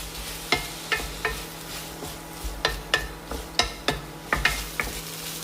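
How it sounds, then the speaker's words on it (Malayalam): Ivy gourd (kovakka) sautéing in a pan over low to medium flame, with a soft steady sizzle and about a dozen sharp clacks and scrapes of a spoon stirring against the pan. "ഏകദേശം ഒരു 2-3 മിനിറ്റ് ഒന്ന് വഴറ്റിയെടുക്കണം."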